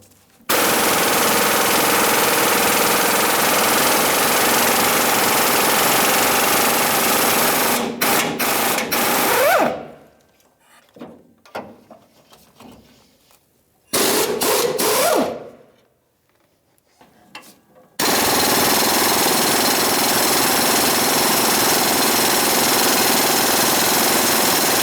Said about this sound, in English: with a 21mm socket, I'm going to remove the nut on each one of these shackle U-bolts